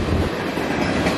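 A westbound local freight train led by two CN SD60 diesel locomotives rolls past close by in Battle Creek, Michigan, with a loud, steady rumble and rail clatter and no talking.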